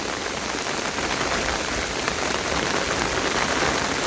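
Heavy monsoon rain pours steadily onto a pond in Bangladesh, a dense, continuous hiss of drops hitting the water surface, loud and close with no pauses and no voices.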